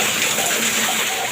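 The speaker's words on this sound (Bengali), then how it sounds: "খুব মারাত্মক লেভেলের বৃষ্টি হচ্ছে।" Very heavy rain pours down in a dense, steady roar, loud and close, filling the short stretch without pause.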